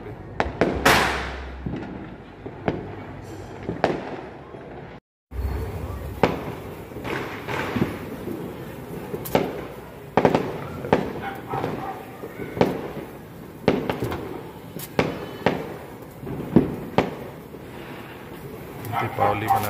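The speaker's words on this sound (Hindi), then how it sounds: "और इधर दिल्ली में आतिशबाजी भी स्टार्ट हो चुकी है।" Diwali fireworks and firecrackers burst around a Delhi neighbourhood at night, a string of sharp cracks and pops at irregular intervals, some close and loud, others distant, over wind noise with a voice talking at times.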